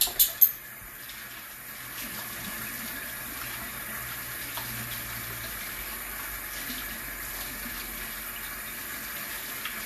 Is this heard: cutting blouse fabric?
no